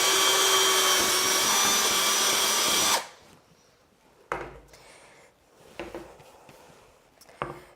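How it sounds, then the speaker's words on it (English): A power drill bores a hole through a glued-down cake board for a tiered cake's center support, a loud steady whine for about three seconds that stops abruptly, followed by faint handling knocks. "You want the hole that you're drilling to be perfectly straight."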